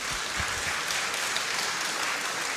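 Audience applause at a hackathon event, a continuous, even roar of many people clapping, fairly loud, with a few low thumps early and no speech over it.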